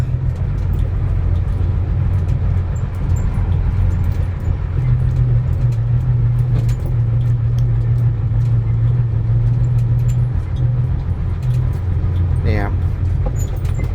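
A car engine droning steadily while driving, held in the same gear, with a low constant hum and rumble throughout and a brief rising whine near the end, close and fairly loud.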